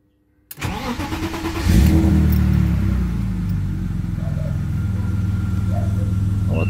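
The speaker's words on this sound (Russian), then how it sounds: "Вот так заводится ухоженная бэха." A washed BMW E34 cranks and fires up after the ignition is switched on: a sudden starter whir, then the engine catches and settles into a steady, fairly loud idle close by.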